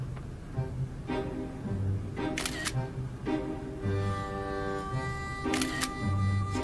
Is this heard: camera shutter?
yes